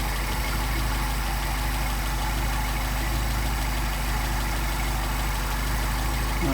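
A carburetted engine with a Solex carburetor idles steadily while its barrels' airflow is being synchronized, a continuous close-up mechanical drone with a low rumble that holds even throughout, with no voices.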